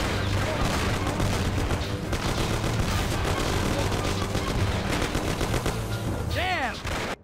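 Gunfire rattles in the Mafia video game as a dense, continuous barrage of rapid shots and bursts. It stays loud throughout, with shouted voices mixed into the shootout.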